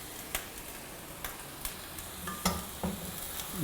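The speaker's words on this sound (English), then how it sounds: "Give that just a little bit of stir." Pork soup simmers in a cast iron pan under a steady soft sizzle, with a few light scrapes and taps of a utensil stirring at irregular moments.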